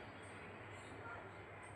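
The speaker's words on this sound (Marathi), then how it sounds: "त्यामुळे जास्तीत जास्त ट्रेनचा असा आवाज येतो आहे" A train passes near a house as a faint, steady low rumble with a soft hiss on top. It stays distant and continuous throughout without distinct clacks.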